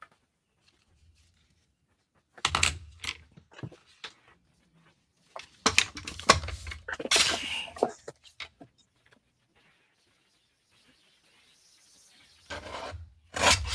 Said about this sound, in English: snip off a triangle by cutting from left and right 1 inch mark